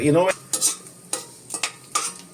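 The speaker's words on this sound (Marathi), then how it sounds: "हे शेंगदाणे हे असे भाजून झाले" Peanuts roast in a pan for tomato upma, stirred in a series of short, distinct scraping and rattling strokes separated by brief quiet gaps, close and fairly loud.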